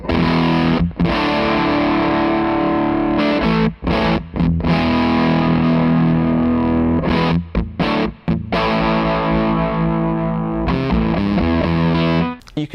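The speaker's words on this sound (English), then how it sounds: "I've put the fuzz from Puro pedals, the Pug fuzz. So let's just hear what that sounds like." Electric guitar through a Puro Pug fuzz pedal placed after Hello Sailor Effects Broadside, thick distorted sustained chords and notes, loud and alone, broken by short pauses between phrases.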